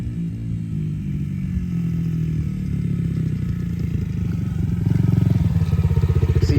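Yamaha TTR motorcycle engine running in first gear, a steady low throbbing drone that grows louder and choppier near the end with rising revs, close by and heard alone without talk.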